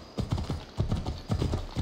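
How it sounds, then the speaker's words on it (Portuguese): A horse galloping in the video game Assassin's Creed Odyssey: rapid, rhythmic hoofbeats in repeated clusters, close and fairly loud, with no speech over them. "Cavalo doido, velho, pulou por cima do bagulho."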